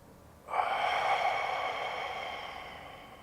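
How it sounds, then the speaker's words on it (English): A single deep breath drawn in through the nose and let out through the mouth during a guided belly-breathing meditation, starting abruptly as a soft airy rush that slowly fades, close and quiet with no talking. "we're going to breathe in through our nose, we're going to breathe out through our mouth"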